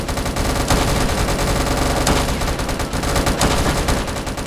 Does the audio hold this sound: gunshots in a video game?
yes